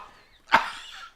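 A single sharp cough erupts after a burning sip of bourbon, starting abruptly and trailing off into a rough, breathy rasp; close and fairly loud, with no talk over it.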